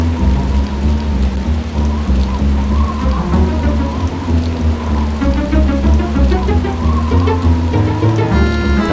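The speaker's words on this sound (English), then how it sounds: "we gotta wait here for the storm sound effect to leave" Storm rain from the PC game The 11th Hour pours steadily and evenly throughout, a dense, continuous hiss of falling water with a low rumble underneath.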